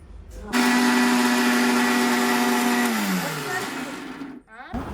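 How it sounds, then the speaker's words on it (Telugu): A mixer grinder blends dried amla into a paste, a loud steady motor whine starting abruptly and holding for a few seconds, then dropping in pitch as it winds down before stopping. "వాటిని మిక్సీ జార్లో వేసేసి మెత్తని పేస్ట్లో అయితే మిక్సీ"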